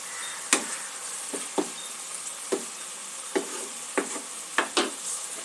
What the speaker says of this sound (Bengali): সমস্ত উপকরণগুলো 2-1 মিনিট একটু কষিয়ে নেব ভালো করে।